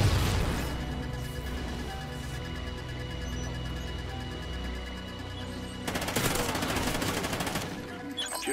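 Viper submachine gun fire in Call of Duty: Ghosts crackles in rapid sustained bursts, loud and dense, with a fresh heavier burst near the end.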